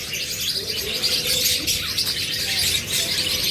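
A dense chorus of caged pet birds, lovebirds, cockatiels, budgies and finches, chirps and chatters continuously, loud and close, filling the space with overlapping high twittering.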